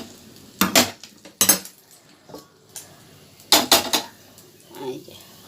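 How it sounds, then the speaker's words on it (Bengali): A metal kadai, the frying pan just used for pointed gourd and prawns, is handled and set on a home stove, with several sharp close clanks and scrapes separated by short quiet gaps. "এবার কড়াই বসিয়ে দেবো।"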